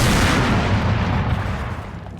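Heavy artillery fire in the WWII strategy game Combat Mission Final Blitzkrieg, a loud, continuous rumble of overlapping booms that slowly fades toward the end.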